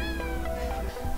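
A pet cat meows a couple of times, close and fairly clear, over a steady low background hum, with no talking.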